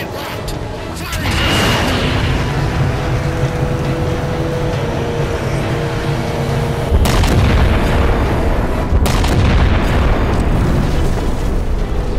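In the Halo 4 video game, a heavy weapon fires and sets off an explosion, a loud, sustained roaring boom that swells and rumbles continuously, with another surge of blasts partway through.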